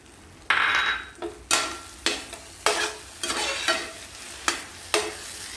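Semolina and sugar being stirred in a pan for rava kesari: a spoon scrapes in rhythmic strokes, about eight, loud and close, over a faint steady sizzle.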